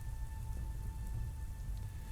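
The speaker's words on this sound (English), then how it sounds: "as the clouds roll in and some rain starts to barely drizzle" Light drizzling rain as ambience during a tabletop game session, a soft steady wash of fine patter with low rumble beneath, constant and even throughout, with no voices.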